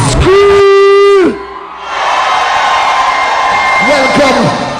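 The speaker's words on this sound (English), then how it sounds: "Somebody scream!" A large outdoor crowd at a Trinidad and Tobago carnival show roars and screams together, loud and sustained, after a strong voice shouts over the music; scattered yells rise near the end.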